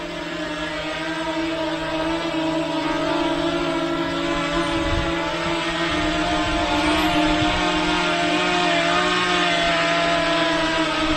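A Potensic Atom mini drone hovers close by, its steady motor whine humming with stacked tonal harmonics at a constant loud level for the whole stretch.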